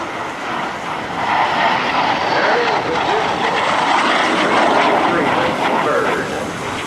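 A T-33 jet aircraft roars past, a loud sustained engine rush swelling and fading slightly as it passes.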